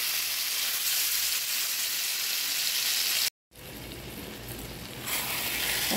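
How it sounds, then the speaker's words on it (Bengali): Taro stems frying with hilsa fish head and tail, onion and green chillies in hot oil, giving a steady close sizzle that cuts out briefly midway and then resumes. "কচুটা আমি মাছের সাথে ভালো করে ভাজা ভাজা করে নিয়ে ভাজা ভাজা করে নেব"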